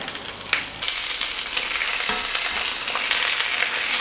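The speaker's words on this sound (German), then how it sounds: "Und die lassen wir jetzt bei, sagen, mittlerer Hitze schön braten" Sausages frying in a pan over medium heat for Stolzer Heinrich, a dense, close crackling sizzle with a few sharper pops and light stirring noises throughout, no voices.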